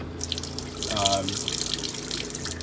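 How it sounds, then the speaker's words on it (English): Tap water runs steadily from an RV faucet fed by a water pump in a Fleetwood Jamboree 26Q motorhome, a continuous close splashing hiss with a voice talking over it. "Got your water pump, and this unit has absolutely awesome pressure."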